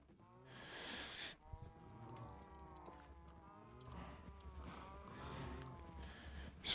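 Cows mooing in the Minecraft video game, several drawn-out moos in a row over steady background game sounds, with no talking.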